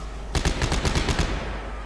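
Rapid bursts of enemy gunfire in the video game Dead Space 3, a loud string of about eight sharp shots lasting roughly a second, then fading out.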